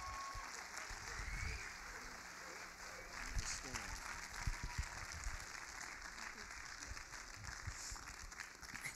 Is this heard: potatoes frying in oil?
no